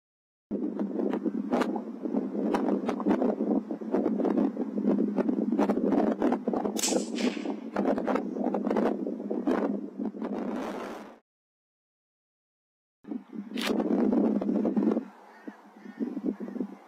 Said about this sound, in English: Hell of a strong wind from right to left where I am at the moment.